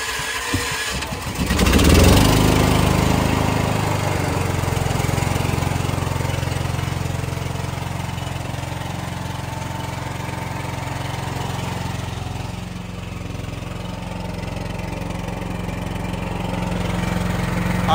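Portable generator started with the choke on, a brief cranking burst that catches into a steady, fairly loud engine drone running evenly to the end, with no talking.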